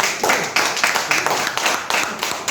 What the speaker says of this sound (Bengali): আমরা মাহফুজের জন্য একটা করতালি দিই।